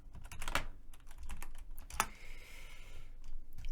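Rapid clicking keystrokes on a computer keyboard as a terminal command is typed on a RHEL 8 workstation, close and clear, with a few sharper key hits standing out and no voices.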